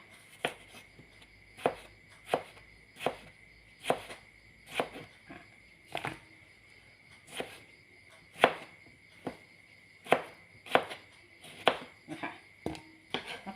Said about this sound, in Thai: แล้วก็นี่หั่นเป็น มะเขือเทศด้วยค่ะ